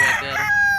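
A yellow-legged Golden Boy Sweater bull stag rooster crows at a busy gamefowl auction market, one loud, close, drawn-out cock-a-doodle-doo that carries through the whole moment over a murmur of background noise.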